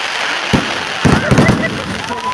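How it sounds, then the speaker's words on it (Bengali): Fireworks go off at a sea beach as a few sharp pops and crackling bursts, some in a quick cluster, with people talking nearby. "অভিনব আতশবাজি প্রদর্শন মোহনার সমুদ্র সৈকতে।"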